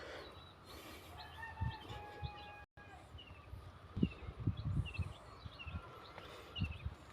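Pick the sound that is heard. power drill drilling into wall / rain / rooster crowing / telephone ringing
rooster crowing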